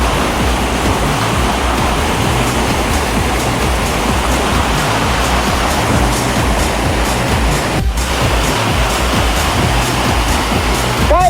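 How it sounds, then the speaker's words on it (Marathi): Ghogata waterfall at Gunj pouring steadily, a loud, continuous roar of rushing water that fills the scene with dense broadband noise, no voices, with one brief dip in the middle. "हा घोगाचा धबधबा किती भारी एकदम वाहतोय"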